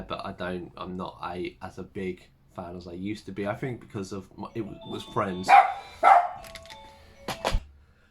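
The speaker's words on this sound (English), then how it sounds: "that was my front door. So it's always interesting when the postman rings the doorbell" A front doorbell plays a Little Mermaid tune, a faint melodic chime heard in the background under a person talking.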